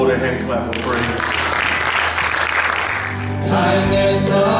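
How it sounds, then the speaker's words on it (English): A church congregation at a praise and worship service claps hands in praise, a dense burst of applause mixed with voices that dips briefly and then swells again. "Let's give the Lord a hand clap of praise."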